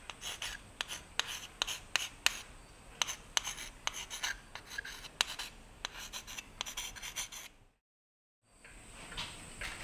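Someone writes a name on an old school slate, a rapid series of sharp scratching strokes at close range, stopping in a brief silence before faint rubbing resumes; no voices.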